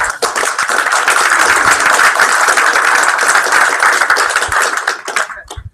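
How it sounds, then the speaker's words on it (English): An audience at a game studio pitch event bursts into dense, loud applause. It keeps up steadily for about five seconds and then quickly dies down. "Give him a round of applause."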